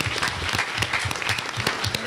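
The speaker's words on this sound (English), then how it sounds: "So give them a big round of applause." Brief applause from an audience at a Houston transportation town hall, greeting the panelists with steady, moderately close clapping that fills the room without any speech over it.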